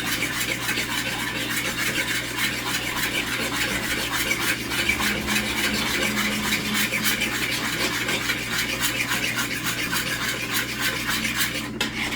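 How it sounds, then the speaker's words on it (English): Spoon stirring and scraping through Korean fried chicken sauce with chili flakes in a bowl, a continuous gentle rubbing and clinking at close range with no talking. "We're just going to give this a good mix."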